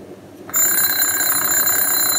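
An electric alarm bell starts ringing abruptly after about half a second of near silence, then keeps up a loud, continuous metallic ring close by, with no voices over it. The bell sits out in the open air before a vacuum bell jar is placed over it.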